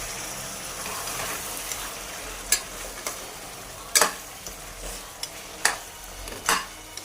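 Mutton bones sautéing in a pan with tomato, ginger and garlic, a soft steady sizzle broken by several sharp clanks and scrapes of a ladle against the metal.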